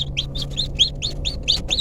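High, rapid peeps from newly hatched chicks drying in an egg incubator repeat in a steady rhythm, close and clear over a low background hum.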